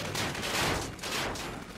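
Rapid video game gunfire, a dense fusillade of overlapping shots in two loud bursts with a brief dip between them.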